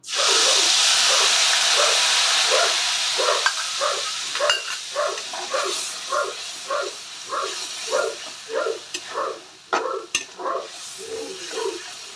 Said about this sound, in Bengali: সেটা আমি একটু জল দিয়ে গুলে রেখেছি, এটা তেলে দিয়ে দেবো।